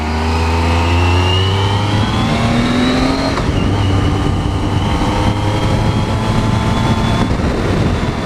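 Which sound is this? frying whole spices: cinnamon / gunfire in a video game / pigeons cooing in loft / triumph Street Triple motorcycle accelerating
triumph Street Triple motorcycle accelerating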